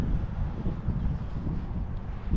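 Gusty wind buffets the microphone outdoors beside a Nissan Z being detailed, a steady low rumble of broadband noise lasting the whole moment with no voices.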